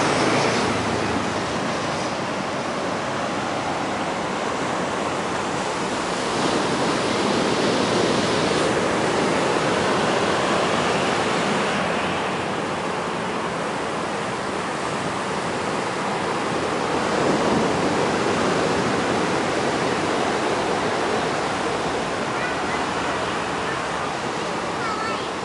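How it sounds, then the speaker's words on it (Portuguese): Rough, agitated sea surf at Icaraí beach, a steady loud broadband roar of breaking waves lasting throughout with slow swells in intensity, close by. "o mar está um pouquinho agitado e as pessoas estão aqui brincando nas ondas"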